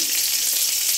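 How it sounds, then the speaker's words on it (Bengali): Onion frying in hot oil gives a dense, close crackling sizzle that stays steady throughout, with no voices. "তেল দিয়েছি গরম করে, তারপরে পেঁয়াজটা দিয়ে দিলাম"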